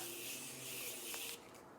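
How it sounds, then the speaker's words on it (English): Morphe Continuous Setting Mist sprayed onto a made-up face, a close, steady fine hiss of mist lasting just over a second before cutting off into quiet. "I'm gonna take this Morphe Continuous Setting Mist Spray, and I'm gonna set the makeup"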